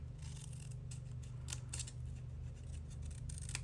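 Scissors snip through paper to cut mitered edges, a string of quick, faint, crisp cuts close by, with no voices.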